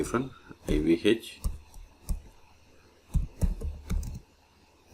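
A computer keyboard typed on in quick irregular bursts of key clicks while a terminal command is entered on Rocky Linux 9.6, with speech heard over it.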